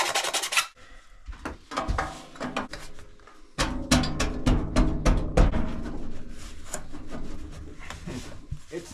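A file rasps against wood in a rough, rhythmic series of scraping strokes, close and fairly quiet, with brief pauses between passes.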